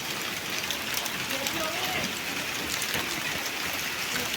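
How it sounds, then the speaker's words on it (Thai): Rain falls steadily on a village of century-old houses in Muang Wen, Houaphanh province, Laos, making a dense, even hiss and patter that stays constant and fairly close throughout. "ฝนตกเนาะ ฝนตกนะแม่เนาะ"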